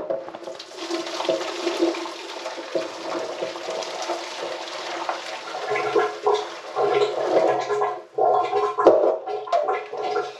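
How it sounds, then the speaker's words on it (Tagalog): Broth poured off a pot of boiled pork leg, a continuous gurgling splash of liquid draining close by, rising and thickening toward the end. "Tapos itatapon ko yung sabaw mga katropa."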